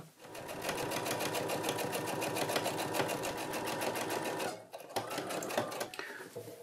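Sewing machine stitching bias tape onto a homemade fabric face mask, a fast steady mechanical rattle held close for several seconds, then a brief pause and a few shorter stitching bursts.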